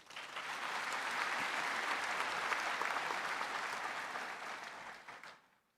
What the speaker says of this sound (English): Why not give them a round of applause?